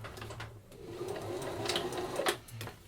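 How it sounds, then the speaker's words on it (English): A sewing machine runs steadily, stitching the straight edges of a fabric dog bandana together, with a continuous mechanical whir and a couple of brief louder clicks near the end. "stitch the straight edges of your bandana together"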